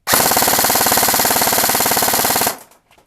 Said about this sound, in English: then we'll do full auto and get a rounds per second